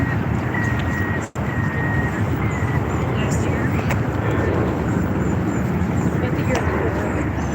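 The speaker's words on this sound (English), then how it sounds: "There's another plane coming." A fixed-wing airplane passes overhead during a cruise ship watch, its broad engine roar steady and fairly loud with a brief dropout, while a person talks over it.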